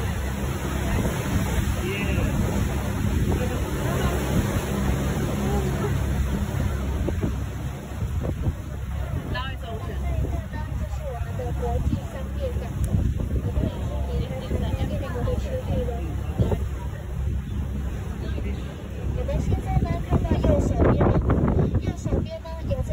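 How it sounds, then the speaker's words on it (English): A tour boat heading out of the Anping river harbor into the ocean rides stronger waves, with a constant engine rumble, water wash and buffeting wind noise, under a faint murmur of passengers. "We can experience the stronger wave on our boat."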